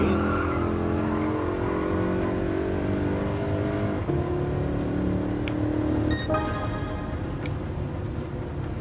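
An Alfa Romeo 4C race car in the Gran Turismo Sport video game revs and accelerates, its engine note rising and falling with gear changes, brief tire squeal and skidding, loud and close without any talk.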